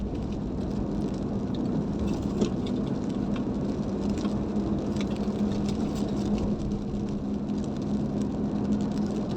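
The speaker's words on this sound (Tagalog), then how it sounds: "Ayan, ako, umuulan na." Rain falls steadily on a car driving along a coastal road in Davao City, a soft continuous patter over a low road rumble, with no talking.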